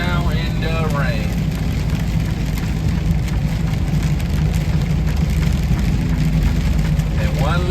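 Rain hisses steadily while a truck drives on a wet road, with constant engine drone and tire wash, and someone talks over the noise.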